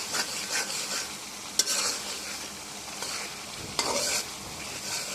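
Radhuni meat masala is stirred and fried in a pan for a pangas fish and potato curry: a continuous close sizzle with repeated scraping strokes of a utensil and a couple of sharp metallic clinks.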